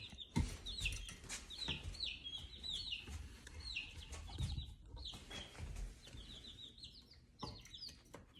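Baby chicks, some with pasty butt, peep constantly in a brooder: a dense, close chorus of high, thin cheeps overlapping in quick repeated bursts, with no talking.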